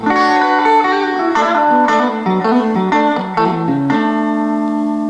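An electric guitar plays through a Joey Leone RebelSonic Fender amp with the treble turned down, giving a warm, rounded tone as a few sustained notes and chords ring out clearly and loudly, with no talking.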